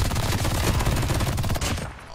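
MG42 machine gun in Call of Duty Mobile firing a sustained rapid automatic burst, loud and close, with dense rattling shots for most of the stretch before trailing off at the end.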